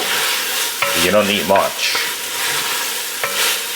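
Tomato paste sizzles and fries in oil while a spoon stirs and scrapes through it, steady crackling broken by brief talk.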